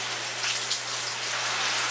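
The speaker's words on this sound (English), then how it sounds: "once the rain stops, we'll see how wet I got." Steady rain patters on a Decathlon poncho worn over a 5.11 tactical bag by someone in hiking pants, a dense, even hiss of drops close to the microphone alongside a constant low hum, with no voices.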